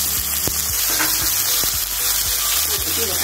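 Chopped tomatoes go into hot oil with sautéed ingredients for an okra chutney, producing loud constant sizzling and frying with a few sharp clinks of a spoon against the pan, close up and without speech.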